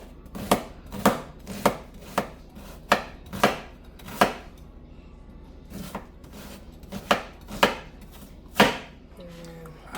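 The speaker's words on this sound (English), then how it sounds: "and now I'm gonna cut some onion." Onion being chopped with a knife on a board for Jamaican stew chicken, a string of sharp, evenly spaced thuds, loud and close, with brief pauses between bursts.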